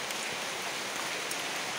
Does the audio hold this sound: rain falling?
yes